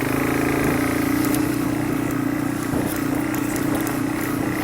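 A motorcycle engine drones steadily while being ridden, a constant close hum with a low tonal note and no voices over it.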